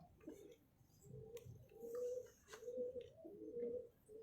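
A Kamaggar-breed pigeon of the Mian Nazir line coos in repeated soft, low phrases, each swelling and fading, close by with faint background rustle and no talk.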